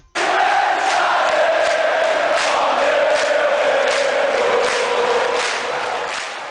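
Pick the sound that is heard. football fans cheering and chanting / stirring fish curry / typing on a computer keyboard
football fans cheering and chanting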